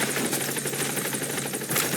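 A support helicopter arriving in Metal Gear Solid V, its rotor beating in a dense rapid thrum with a whooshing wash of noise, loud and close throughout.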